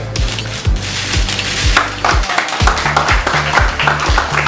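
Dense, loud applause fills a press conference marking boxer Chris John's retirement, a steady wash of many hands clapping with no voices standing out, and a few heavier thumps breaking through the crowd noise.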